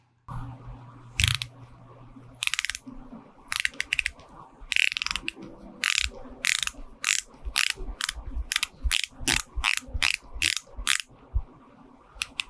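An Omega Seamaster Diver 300M, the Bond 60th Anniversary edition, has its unidirectional dive bezel turned, giving a run of crisp, close ratcheting clicks that come in quick bursts and speed into a rapid series toward the end.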